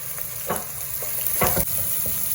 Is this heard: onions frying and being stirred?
yes